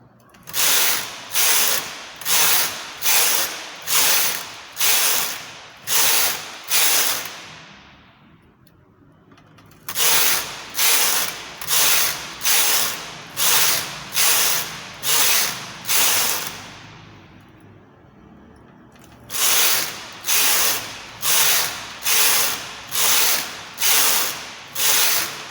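A knitting machine carriage is run back and forth across rows of a chunky cardigan, each pass giving a loud, rhythmic run of ratcheting clacks. Two brief pauses break the three bursts of knitting.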